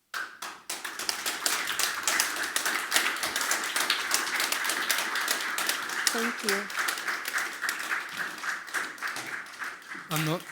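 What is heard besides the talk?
audience applause after talk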